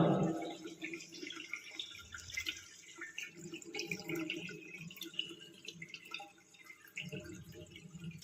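Water drains through a Jacuzzi bathtub's overflow, trickling and gurgling steadily, with drips and splashes of draining flow close by, no voices.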